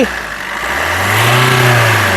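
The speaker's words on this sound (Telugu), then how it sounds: "ఒకసారి ఇంజన్ యొక్క నాయిస్ చాలా సైలెంట్గా ఉంది" A 2018 Maruti Suzuki Brezza ZDI diesel engine rises from a low idle into a smooth rev, the pitch climbing and holding steady, close and fairly loud.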